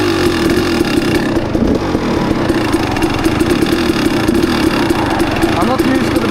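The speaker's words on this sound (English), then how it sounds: "It's not that easy actually to do on a more powerful bike, because I can just give it throttle and it will lift itself in almost every gear." A powerful motorcycle engine runs under throttle during a wheelie attempt, producing a loud, steady, close mid-pitched drone that holds throughout while someone talks over it.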